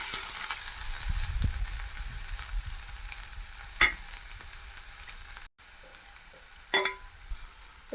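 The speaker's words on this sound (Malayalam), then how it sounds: "വെളുത്തുള്ളി ചതച്ചതും ചെറിയ ഉള്ളി ചതച്ചതും പച്ചമുളകും എല്ലാം കൂടി നമുക്കൊന്ന് വഴറ്റാം." Crushed garlic, crushed shallots and green chilies sautéing with dried red chilies and popped mustard seeds for Kerala rasam, a steady soft sizzle with a few brief scraping stirs and a short gap of near silence.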